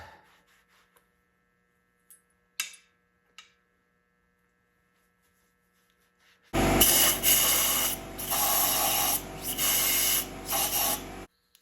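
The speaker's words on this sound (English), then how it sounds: "Going to use a bit of brake clean, go down the threaded holes, clean off the bolts, wipe off the bolts." Brake cleaner spraying from an aerosol can into threaded holes and onto bolts during a Massey Ferguson 35 tractor engine rebuild: a few faint clicks, then a loud, close, continuous hiss in several bursts, with no talking.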